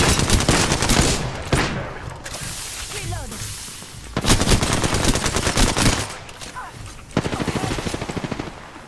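Heavy automatic gunfire in the Apex Legends battle royale game, with dense rapid bursts of shots, sharp impacts and distinct rhythmic volleys, loud and close, while players talk over it.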